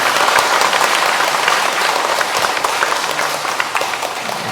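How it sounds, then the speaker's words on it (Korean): A large congregation applauds loudly and steadily inside a Catholic church during Sunday Mass, dense clapping that tapers slightly toward the end. "이제 우리 힘찬 축하의 박수"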